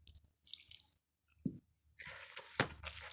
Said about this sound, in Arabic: هنضيف شويه ميه صغيرين كده